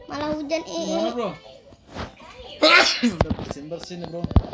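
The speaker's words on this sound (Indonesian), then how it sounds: "Bersin bro." A child sneezes partway through, a sharp burst set among a boy's chatter and babbling during a Minecraft game, with more speech following right after.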